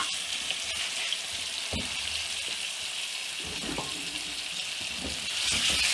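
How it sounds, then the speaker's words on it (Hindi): Chicken pieces hit a hot pot (handi) for an aloo matar chicken salan and sizzle steadily in the oil, a loud broad hiss with a few soft clanks of stirring. "अब मैं चिकन डाल के"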